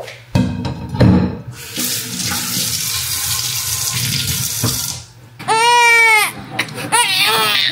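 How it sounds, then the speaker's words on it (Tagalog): Hot water for a baby's milk runs from a tap in a steady, loud rush that fills most of the span, with a baby crying loudly near the end and brief handling noises at the start. "Hot water guys. Para sa ating milk supply."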